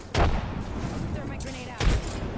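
Two frag grenades blow up in Apex Legends, each a sharp, loud blast with a short rumble, the second arriving about a second and a half after the first, over steady in-game background noise.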